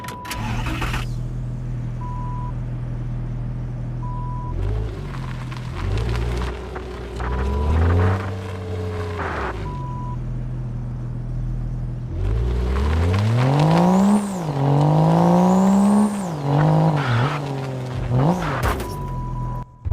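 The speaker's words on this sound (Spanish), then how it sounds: "ahí se pudo escuchar el sonido del motor." Car engine in the mobile game Car Parking Multiplayer, starting up then idling and revving in repeated rising and falling whines, loud and close with no talk.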